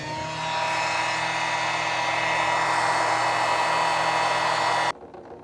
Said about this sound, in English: Let's just use the pump.